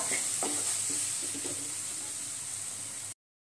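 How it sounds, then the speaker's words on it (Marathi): Spices and chili powder sauté in a pan for a masoor bhaji, a soft continuous sizzle broken by light stirring scrapes. The sound cuts to silence near the end. "आता हे सगळे मसाले परतून घेऊया।"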